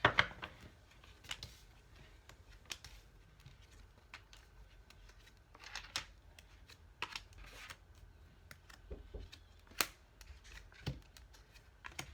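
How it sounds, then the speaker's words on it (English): Tarot cards being shuffled and handled at close range, with soft papery riffles, slides and taps coming in irregular bursts over a quiet room, and no talking. "Now we're going to pull us some cards."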